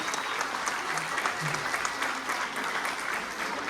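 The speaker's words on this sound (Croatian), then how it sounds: "jedan veliki pljesak, podržite ih" Steady applause from an audience at an international folklore festival in Velika Gorica, Croatia, a dense wash of clapping that continues evenly throughout at moderate distance.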